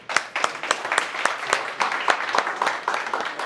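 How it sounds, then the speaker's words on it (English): Seminar participants applauding at a knife self-defense training session, a room of people clapping in quick, uneven bursts, moderately close and lively for a few seconds. "Round of applause for yourselves."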